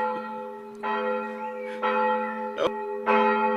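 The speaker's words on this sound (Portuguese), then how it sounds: "O sino está tocando." A church bell tolls loudly and close, four evenly spaced strikes with long ringing hum sustaining between them.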